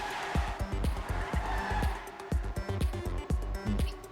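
Racing-game cars roar past with low engine drone and loud tire grip noise, a steady busy mix of rumbling motors and rhythmic skidding pulses throughout.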